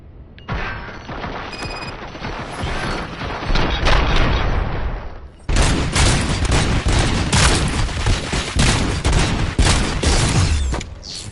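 Heavy automatic gunfire from a movie scene, loud dense bursts with booming blasts, a short pause midway, then renewed sustained firing.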